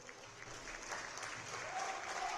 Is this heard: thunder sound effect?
no